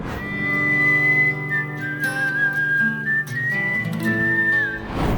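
A lone clear whistled melody, the opening of a rock ballad, glides in long sustained notes over soft guitar chords, loud and close.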